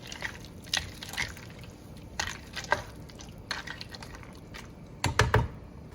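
Tricolor rotini pasta stirred in a wok, giving scattered dry rattling scrapes and clatters, with a louder cluster of scrapes near the end.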